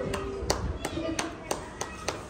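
A few people clapping at a family rice-feeding ceremony, sparse, evenly spaced claps heard over soft background chatter.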